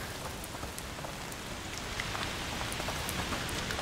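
Steady rain in the game A Plague Tale: Requiem, a dense even patter of drops on surfaces, swelling slightly louder partway through with no voices.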